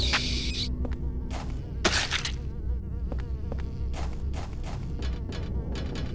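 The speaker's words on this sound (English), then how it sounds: "this guy is just flying all about. He's buzzing." A flying creature in the video game Silent Hill 4: The Room, making a loud, close insect-like buzz that swells and fades as it moves around, broken by sharp bursts of noise.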